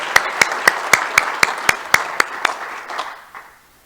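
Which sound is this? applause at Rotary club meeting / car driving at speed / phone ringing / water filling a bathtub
applause at Rotary club meeting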